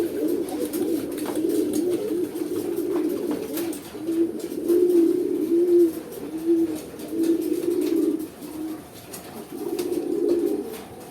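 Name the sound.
pigeon cooing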